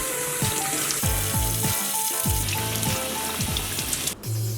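Warm tap water runs steadily over a freshly tie-dyed shirt being rinsed in a sink, a continuous splashing rush with clanking and handling sounds.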